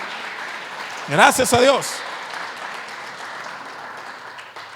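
A church congregation claps together during a service, a sustained wash of mixed applause under which a voice briefly speaks in Spanish.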